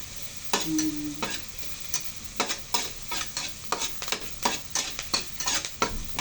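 Garlic and onion frying in a pan until browned, a soft sizzle broken by a rhythmic series of spoon-stirring scrapes, close and steady.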